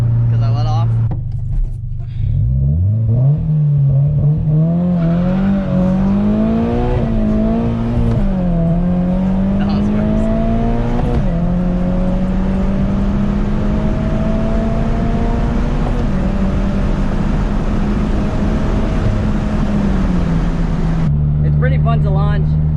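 A Subaru BRZ launches hard and accelerates, its engine revving up through gears with rising pitch and brief dips at the shifts, loud and close from inside the cabin.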